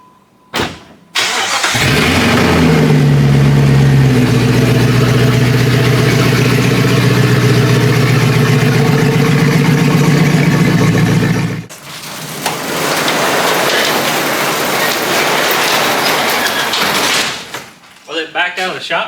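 A Jeep Grand Cherokee WJ starts up and idles loudly and steadily up close for about ten seconds, then it cuts off and broader rumbling and movement follow as it backs out of a shop. A voice is heard briefly.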